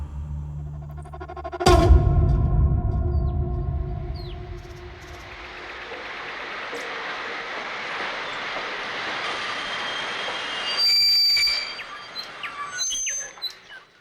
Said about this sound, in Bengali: ঘাটশাল স্টেশনে সপ্তাহান্তের মেল ট্রেনটি এসে যখন থামল